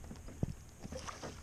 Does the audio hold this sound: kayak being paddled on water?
yes